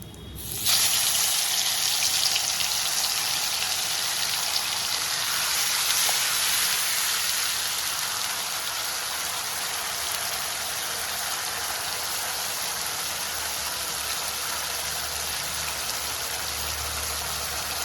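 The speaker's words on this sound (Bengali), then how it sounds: "গ্যাসে মশলাটা ভাজা হচ্ছে" Ginger, garlic, green chilli and tomato paste frying in a pan on a gas flame, giving a steady, loud broadband sizzle that holds evenly throughout with no pauses.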